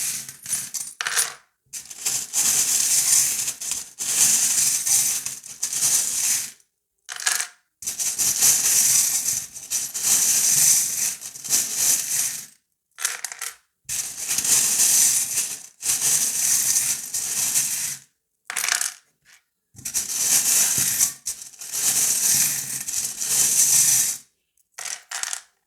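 Small metal fortune-telling charms are shaken and cast in repeated bursts of bright jingling clatter, each several seconds long and separated by short silences, close up and fairly loud.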